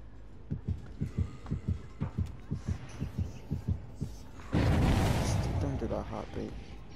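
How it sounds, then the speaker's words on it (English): A video game heartbeat thuds in a steady, deep double rhythm for several seconds, then a loud rumbling burst of noise swells over it. "Don't do that heartbeat."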